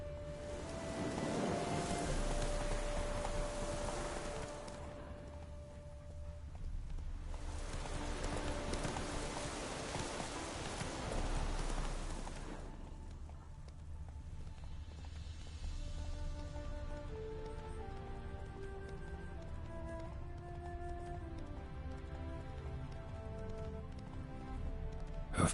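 Horse hooves clip-clop at a steady trotting rhythm in The Witcher 3, with the sound swelling and fading in waves before settling into a quieter gait with faint ambient tones.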